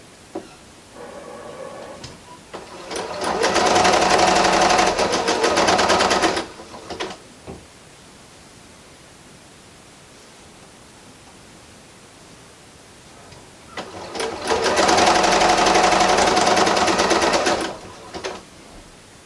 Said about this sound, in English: I'm just sewing right along the edge and then matching up those seams as they come to me.